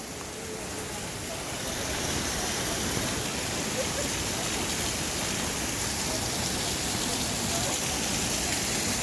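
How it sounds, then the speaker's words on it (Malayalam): A small waterfall at Thusharagiri spills over a rock, making a steady, full rushing roar that stays constant and fairly loud throughout. "ഒരു പാറയുടെ മുകളിൽ നിന്ന് വരുന്ന വാട്ടർഫാൾസ്"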